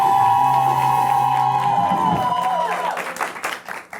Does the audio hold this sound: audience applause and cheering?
yes